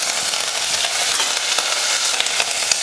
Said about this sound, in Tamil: எண்ணெய் காஞ்சதுமே கொஞ்சம் கடுகுளுந்து, 2 வரமிளகாய், கொஞ்சம் பெருங்காயத்தூள்